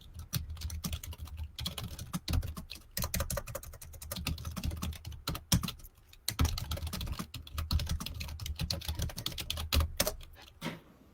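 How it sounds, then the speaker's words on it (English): Fast typing on a computer keyboard, a dense, continuous patter of close keystrokes with a few brief pauses, running alone without any talk. "It's the Typing Olympics."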